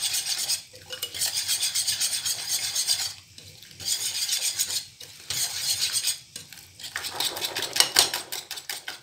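Egg mixture with chopped vegetables and capsicum is stirred briskly in a bowl, giving close, rapid scraping and clinking strokes in bursts separated by brief pauses; no speech.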